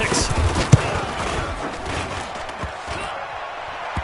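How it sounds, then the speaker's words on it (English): A football field goal attempt bangs off a metal goalpost upright in a single sharp, hollow clang over the low murmur of a stadium crowd, with broadcast commentary around it. "that hollow metal sound is the bane of any kicker's existence"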